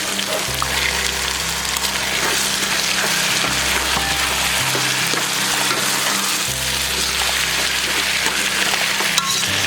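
Vegetables with tomato sauté in a pan for Sri Lankan vegetable biryani. A steady, fairly loud sizzle hisses without pause, over a low hum and no talk.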